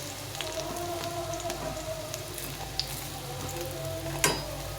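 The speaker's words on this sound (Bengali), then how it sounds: "আমি একবারে সবগুলো বড়া দিয়ে দিয়েছি, দেখতে পাচ্ছ সুন্দরভাবে ভাজা হয়ে যাচ্ছে।" Bitter gourd leaf fritters fry in hot oil with a steady, close crackling sizzle throughout and a sharp clink near the end, no one speaking.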